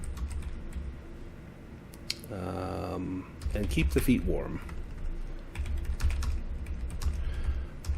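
Someone types on a computer keyboard in short bursts of quick, close clicks while a person talks over and between them.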